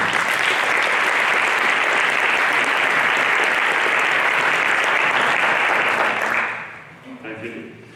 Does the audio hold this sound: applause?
yes